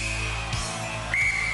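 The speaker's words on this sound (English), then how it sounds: "Paula, you will start on my first whistle" A referee's whistle starting a race on the UK Gladiators TV game show in 1993: a sustained shrill tone that cuts off, then a second, sharper blast a moment later over loud arena crowd noise.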